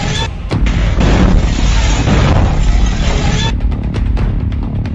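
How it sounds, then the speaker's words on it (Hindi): Hand grenades explode in a meeting room: a loud, close blast erupts into a roaring wall of noise as tables and chairs are shattered, then breaks off into scattered sharp cracks and pops. "जोरदार धमाके के साथ वहां पर टेबल कुर्सियों के परखच्चे उड़ गए।"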